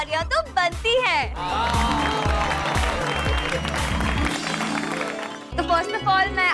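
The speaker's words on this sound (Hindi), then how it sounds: "तो उसके लिए जोरदार तालियां तो बनती हैं" An audience applauds loudly in a sustained burst of clapping between stretches of someone talking at an event.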